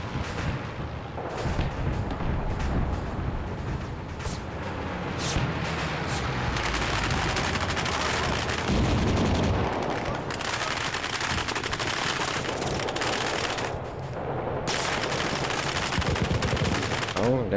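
Gunfire and artillery in an ARMA 3 NPC battle: sustained machine-gun bursts and single shots mixed with heavy booming explosions, loud and dense across the whole stretch, with brief rising swells.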